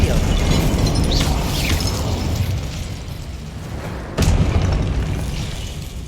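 The Incendio fire spell goes off in Hogwarts Legacy as a loud, rumbling burst of flame, fading over a few seconds before a second sharp blast hits and roars on, with no voice over it.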